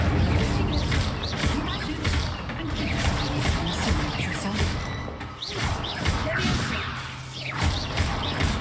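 An Incendio fire spell cast in a Hogwarts video game erupts as a dense, loud burst of whooshing flame and crashing impacts, layered over continuous game music and ambience that fill the whole stretch.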